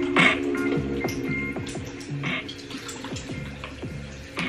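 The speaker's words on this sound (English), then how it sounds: "now I'm just gonna get some my cleanser and wash that off my face" Tap water running into a sink while cleanser is rinsed off a face, a steady close splashing stream with irregular drips and spatters, continuous throughout with no talking.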